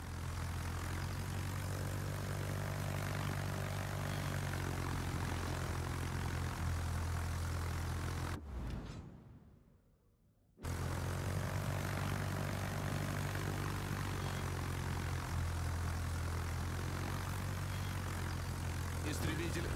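Propeller aircraft engines drone loudly as a fighter takes off from a Soviet carrier, Tier 8 VMF Pobeda, in World of Warships, a steady roar that briefly drops out to near silence mid-clip before resuming.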